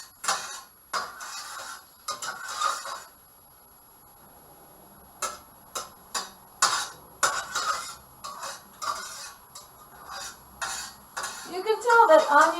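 A softened onion is stirred in a pan with a utensil, giving a run of irregular scraping and clinking taps against the metal, with short pauses between bursts and faint background kitchen noise, no talk.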